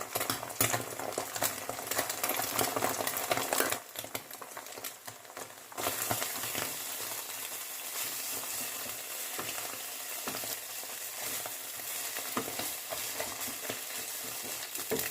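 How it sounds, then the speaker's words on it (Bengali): Beaten egg sizzles and fries in a pan while being stirred, giving a dense, continuous crackle with scraping stir strokes, loud and close throughout. "প্রথমে ডিমের ঝুড়ি বানিয়ে নেব।"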